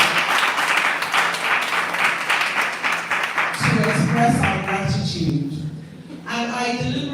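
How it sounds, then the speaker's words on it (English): An audience applauds at a women's engagement event at Ikoyi Club, dense steady clapping filling the first half, then a voice begins speaking over the fading claps. "Please, let's give them another round of applause to express our gratitude."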